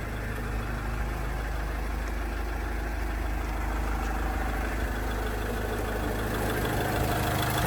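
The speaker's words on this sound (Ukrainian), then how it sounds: "Цей автомобіль у нас з заводу без сажового фільтра, євро 4 мотор, О, чути як він працює." A 2010 Renault Trafic passenger van with a 2.0-litre 115 hp Euro 4 diesel, built without a particulate filter, idles steadily, a low, even, fairly quiet rumble that holds constant with no talking.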